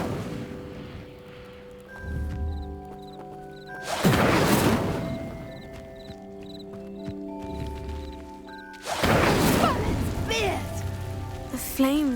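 An Incendio fire spell in Hogwarts Legacy sets a pyre burning, with two loud whooshing, crackling flare-ups a few seconds apart over soft magical chimes and ambient tones.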